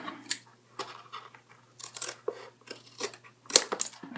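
Scissors snip through cardboard for a homemade Jurassic Park T. rex, a series of short, crisp cuts with brief pauses between them, close and fairly quiet.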